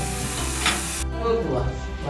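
Steady loud sizzling of tomato chutney frying in a pan with stirring scrapes, the hiss cutting off abruptly partway through and quieter cooking noises continuing.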